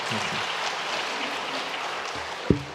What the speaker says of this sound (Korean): 잠깐 자리에 일어나 인사하실 때 우리 박수로 환영하도록 하겠습니다.